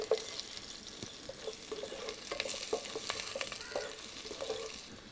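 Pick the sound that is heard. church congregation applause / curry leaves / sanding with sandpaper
curry leaves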